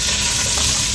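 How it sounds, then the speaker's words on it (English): Asparagus sizzles in a hot frying pan, a steady close crackle and hiss of frying that fills the whole second without any voices. "I know it's sizzling in there right now"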